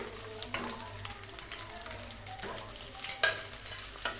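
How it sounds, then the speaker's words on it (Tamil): Sliced onions sautéing in hot oil with curry leaves in a pan for tomato rice, a low steady sizzle broken by scattered stirring scrapes and light clinks, no voices. "வெங்காயத்தை நல்லா ஒரு நிமிஷம் நல்லா வதக்கிக்கலாம் எண்ணெயில்"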